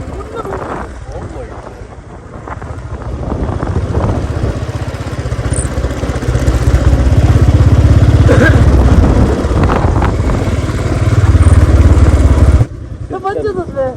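A motorcycle rides along a hill road in monsoon fog, its engine droning steadily beneath heavy wind buffeting on the microphone, with people talking over it until the sound drops off abruptly near the end.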